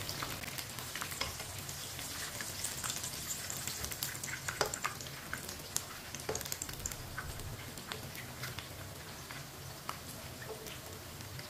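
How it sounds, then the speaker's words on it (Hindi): Pieces of chicken frying in oil in a pan, turned over to cook the second side, give a steady broadband sizzle with scattered crackles and pops throughout, close and fairly quiet, with no talking. "ये वाली साइड से भी 2 मिनट के लिए फ्राई कर लेंगे।"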